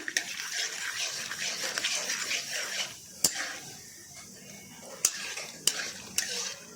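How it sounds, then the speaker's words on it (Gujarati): Peanuts roasting in hot oil, a soft crackling sizzle with stirring and several sharp clinks of a spoon against the pan, the frying fading quieter midway. "હવે તેમાં આપણે આ રીતે મગફળીના બિયા નાખી દઈશું। તેને થોડા શેકી લઈશું આ રીતે।"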